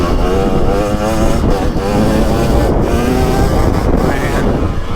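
A 2023 KTM 300XC two-stroke dirt bike rolling on at partial throttle, its engine droning loud and continuous close by under heavy wind noise.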